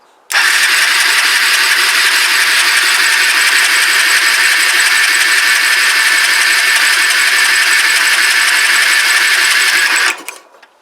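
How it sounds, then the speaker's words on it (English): A Kawasaki BN125 Eliminator motorcycle engine cranks at full throttle with a loud, steady, whirring mechanical drone that runs unbroken for about ten seconds and then cuts off abruptly. "So ignition on, full throttle, hit it."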